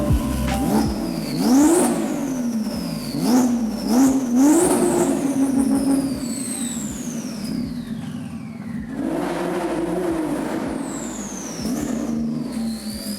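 A 900bhp Porsche Turbo accelerates hard at night, engine revving up through repeated gear-shift sweeps, loud and close throughout with a brief lull before pulling again.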